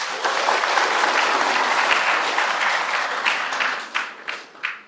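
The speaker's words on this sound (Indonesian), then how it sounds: "Kita berikan aplaus dulu ini." Loud, sustained applause from the audience at a graduation ceremony of a technical academy, a dense wash of clapping that thins near the end into a few separate claps.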